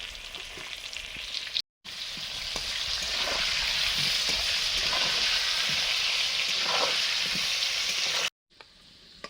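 Loud, continuous sizzling of potatoes frying in hot oil for a fish curry, with a brief break and some stirring clatter.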